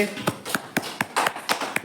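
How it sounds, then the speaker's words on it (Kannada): Children in a classroom clap together for a group: about eight quick, evenly spaced claps in a steady rhythm, close and moderately loud. "ಎಲ್ಲರೂ ಅವ್ರಿಗೆ ಚಪ್ಪಾಳೆ ತಟ್ರಿ"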